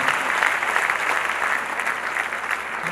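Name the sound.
congregation applause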